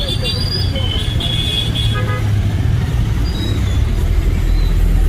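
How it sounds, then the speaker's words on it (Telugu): Heavy road traffic rumbles nonstop while car horns toot repeatedly in short and longer blasts, some near and some farther off, with people talking over the din. "ట్రాఫిక్ ఎక్కువ రోడ్డా"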